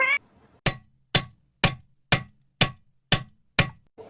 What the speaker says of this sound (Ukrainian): А це молоток.